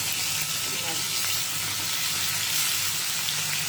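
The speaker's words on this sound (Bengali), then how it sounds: "দেখো মাছ ভাজা হচ্ছে" Pieces of fish sizzle steadily in hot oil in a pan, a close, constant frying hiss that runs unbroken throughout with no talking.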